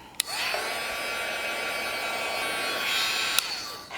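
A handheld dryer blows steadily over inked planner page artwork, a continuous close whir with small clicks as it switches on and off, no talking.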